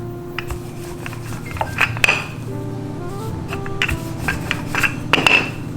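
Chapati dough is rolled out for Kenyan chapatis, with repeated rubbing and knocking strokes and light clinks of the rolling pin on the board, plus a low steady hum beneath.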